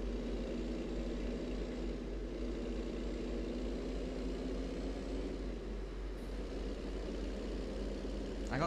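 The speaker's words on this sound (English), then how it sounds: "The truck is loud." Kenworth W900 truck engine in American Truck Simulator, a steady loud low diesel drone with a constant rumbling hum that holds unchanged throughout, no talking over it.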